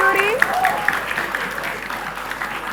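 A crowd at a school quiz competition claps steadily for the judges, loud and close, the applause fading slightly toward the end.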